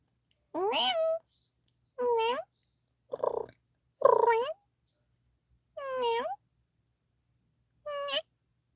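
A person imitates a cat, giving six separate drawn-out meows with gaps between them, close and clear, with no other talk during the sounds.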